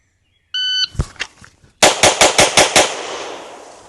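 Zev OZ9 pistol fired in a bill drill: a shot timer's beep, one shot and its echo, a short pause, then six rapid, loud, evenly spaced gunshots ringing out on a range.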